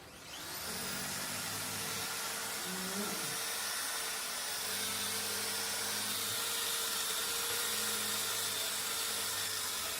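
A steady electric drill whine runs continuously with a grinding, sanding rasp layered underneath, fairly loud and unbroken throughout.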